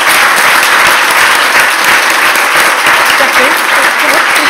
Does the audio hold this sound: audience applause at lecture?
yes